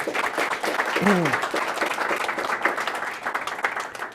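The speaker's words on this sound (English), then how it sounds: "Please give Shannon a wonderful round of applause." Applause from a crowd at a community and membership meeting, steady clapping throughout with a brief voice rising over it early on.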